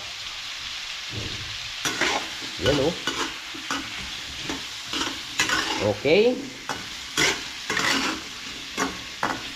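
Chopped chayote cooks in a pan, with a steady sizzle and bubbling under repeated scraping strokes of stirring. A few brief spoken words come near the start.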